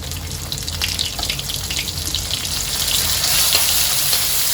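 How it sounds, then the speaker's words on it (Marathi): Cumin and ground spice paste sizzle in a hot pan, a steady, loud, crackling frying hiss that keeps going throughout with no voices. "जिरं घालून घेते आता आपला वाटण घालून घेते"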